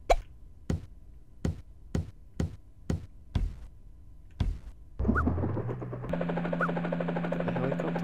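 A helicopter in the video game Speedy Eggbert 2 (Vas709 mod): a run of sharp, evenly spaced knocks gives way to a steady, droning mechanical whir that holds loud and close for the last few seconds, with no talking.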